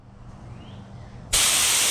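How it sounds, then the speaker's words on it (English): A spattering paint spray gun, faulty and used while restoring a 1966 Ford Galaxie 500 convertible, bursts into a loud, close, steady hiss of spraying after a quieter lead-in. "I just can't have a spattering spray gun."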